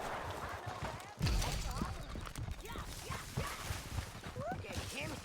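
Horse hooves clip-clop steadily in Red Dead Redemption 2, a brisk rhythmic trot close by, with game voices talking over it and scattered rustling noise throughout.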